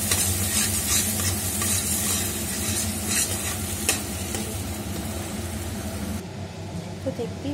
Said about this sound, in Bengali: দিয়ে আবার নাড়িয়ে নেব।